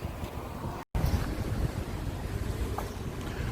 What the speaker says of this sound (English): Wind's picking up crazy